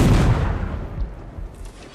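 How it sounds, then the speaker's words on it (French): A loud, booming blast from a small cannon at the start that rumbles and decays, followed by fainter thuds trailing off, from the video game Mount & Blade. "c'est peut-être un mini canon"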